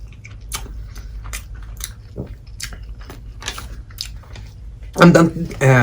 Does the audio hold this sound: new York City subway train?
no